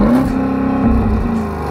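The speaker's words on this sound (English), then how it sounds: "Rev it up." Porsche Cayenne Turbo GT engine revving in neutral with ESP off, a loud close burst of engine roar that climbs, dips briefly and holds for under two seconds.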